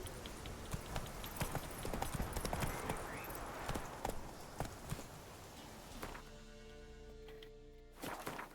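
A horse in The Witcher 3 video game, with rhythmic clip-clop hoofbeats over ambient game sound, fading at the end into a quieter droning tone, no voices.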